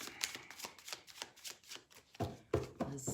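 Tarot cards are shuffled by hand in a quick series of crisp riffles and soft slaps, close up and alone, ending in a few louder snaps.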